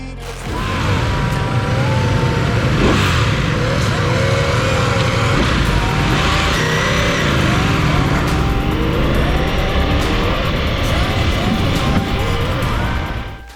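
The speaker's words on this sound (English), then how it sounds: "First lap out and the throttle response is immediate. The Panigale launches like a missile" A 2025 Ducati Panigale V4 S motorcycle accelerates hard around a track with a loud, close engine roar and rising and falling revs through gear changes, sustained for about twelve seconds.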